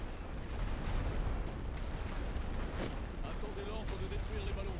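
A World War One artillery barrage in a video game sends heavy, rumbling booms that blend into a continuous low roar, and voices talk over it the whole time.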